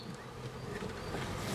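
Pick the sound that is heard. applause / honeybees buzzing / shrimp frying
honeybees buzzing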